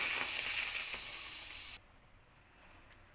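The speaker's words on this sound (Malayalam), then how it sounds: "എണ്ണ ചൂടായി വന്ന് പപ്പടം പൊരിക്കുകയാണ്." Loud crackling sizzle of papadum frying in hot oil, cutting off abruptly partway through to near silence with a couple of faint ticks.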